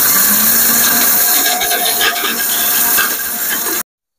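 Mixer grinder whirring as it grinds roasted spices in a jar, a loud, close, continuous rattling whine that cuts off sharply near the end.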